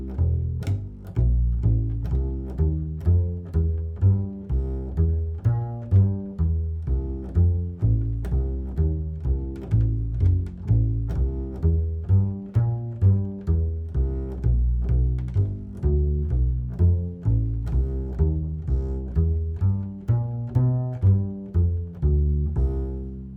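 Upright-style walking bass line over a full blues chorus, steady plucked quarter notes outlining arpeggio tones, close and clear with no other instruments or voices.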